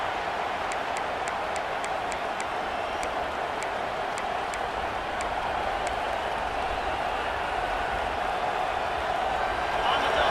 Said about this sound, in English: And the crowd really making some noise now, trying to help out this defense to get this stop near the goal line.